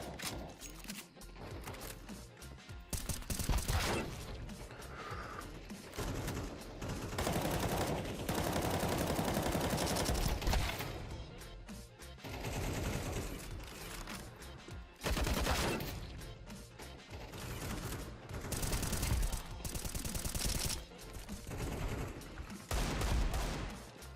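Rapid bursts of automatic gunfire and repeated shots from a shooter video game played with random weapons, dense and loud through the whole stretch with brief lulls between volleys, no talking.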